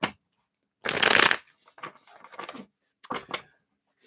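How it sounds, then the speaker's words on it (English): A deck of reading cards is shuffled in a few quick riffling bursts, close and crisp, with short pauses between them and no talking. "Give these a shuffle."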